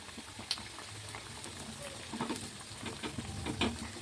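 Kajjikayalu, sweet dumplings filled with roasted gram and jaggery, frying in hot oil until golden, giving a steady close sizzle with scattered crackles and soft pops throughout.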